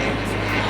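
A loud, steady engine drone from a vintage aircraft flying a simulated aerial dogfight at the Pons Avy 2016 air meeting, heard close in a short continuous burst.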